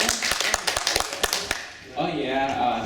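A few seconds of school study-tour visitors clapping hands at a product giveaway: brisk overlapping claps for about a second and a half, then they fade out under a voice that starts talking.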